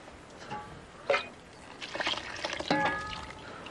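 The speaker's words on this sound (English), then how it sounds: "Pour the rest of that water on the top of this." Water is poured over a grain porridge for heather ale, coming in a few short splashing pours and trickles, close and fairly quiet.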